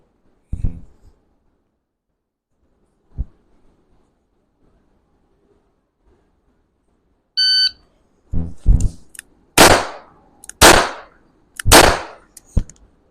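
Single-action cowboy revolver shots ring out at a shooting range, several sharp, loud bangs spaced a second or so apart after a quiet stretch with a couple of faint earlier pops and a brief beep.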